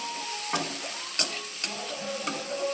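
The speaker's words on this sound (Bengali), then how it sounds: "দিয়ে সেদ্ধ করে রাখা গাজর, কলা, আলু এগুলো তেলে দিলাম" Boiled carrot, banana and potato pieces dropped into hot oil with five-spice seasoning, giving a steady hissing sizzle with a few sharp spatters and pops standing out, close and without speech.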